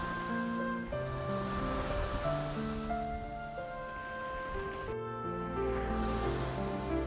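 Waves rush up a white sand beach on Tanegashima, a steady moderate wash of surf swelling and easing without any talk.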